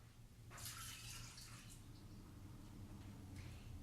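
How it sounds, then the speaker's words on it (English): Half a cup of water poured into a flax seed bread mix in a home kitchen, a soft, brief pouring trickle at low level with no speech. "And then we're going to add a 1/2 cup of water"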